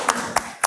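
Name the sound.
class clapping for a student group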